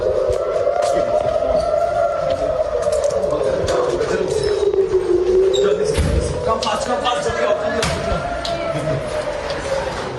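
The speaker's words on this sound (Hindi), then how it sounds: "सायरन बज गया है" An air raid siren wails continuously in the Tel Aviv area during the Israel–Palestine war, its pitch slowly rising and falling, loud and steady, with a voice speaking over it.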